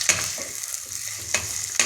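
Vegetables sizzle and fry in a pan for a Bengali home-cooked meal, with steady frying hiss and a few sharp stirring scrapes spaced through the short stretch, close and moderately loud with no talking.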